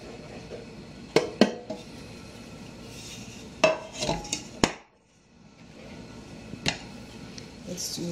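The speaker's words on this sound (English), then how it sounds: "So we're flouring the tins." Metal cake tins being floured give off scattered clanks, taps and knocks, a few sharp metallic hits separated by quieter shuffling, close by and with no talking.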